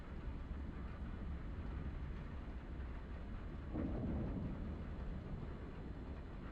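Steady rain from the video game Kentucky Route Zero, a dense continuous hiss with a low rumble swelling midway like distant thunder, no voices.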